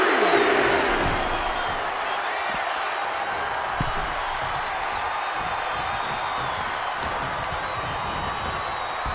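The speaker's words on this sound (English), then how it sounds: "And Steiner is firing up the crowd here" Arena crowd noise from a wrestling match in WWE 2K25, a dense, continuous roar of cheering that holds steady throughout, with a commentator's voice running over it.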